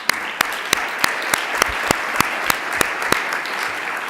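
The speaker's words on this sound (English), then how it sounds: "Let's give them all a round of applause." Applause at a gathering after thanks to the caterers of a supper, a dense patter of clapping punctuated by regular loud, close claps from one person.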